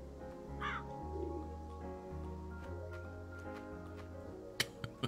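Crows cawing in the video game Calico over a steady, droning game soundtrack, with a short call near the start and a few sharp clicks toward the end.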